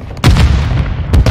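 Grenade explosions in Call of Duty: Modern Warfare 2 during a competitive match, two loud booming blasts about a second apart with rumbling low end between them.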